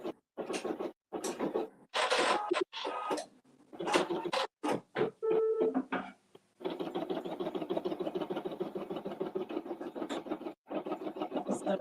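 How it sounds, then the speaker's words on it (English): A 4x4 embroidery machine stitches out the placement stitch for an in-the-hoop mug rug, with a loud, rapid, close mechanical chatter in short bursts and then a long continuous run. "we're gonna do the placement stitch. Mine's stitching out now"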